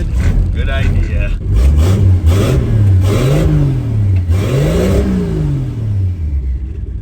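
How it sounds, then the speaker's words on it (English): A boosted 1963 Plymouth Valiant six-cylinder fed through a Carter BBD carburetor, running rough with a cylinder dropping out, revs up and down in close, loud swells while people talk over it. "I can hear a cylinder dropping out."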